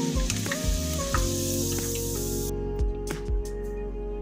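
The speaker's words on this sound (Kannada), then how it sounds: "ಬೆಳ್ಳುಳ್ಳಿಗಳು ಗೋಲ್ಡನ್ ಬ್ರೌನ್ ಬರುವವರೆಗೆ ಫ್ರೈ ಮಾಡ್ಕೊಳ್ಳಿ" Garlic cloves fry in hot oil until golden brown, a close, steady sizzle with occasional stirring clicks and bursts of crackle.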